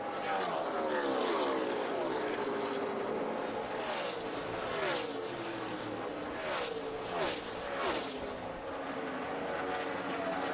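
NASCAR stock cars on the final lap at Kansas in the 2014 Hollywood Casino 400 howl past, a dense loud engine roar with repeated swelling passes and pitch sweeps over a constant crowd-and-track wash.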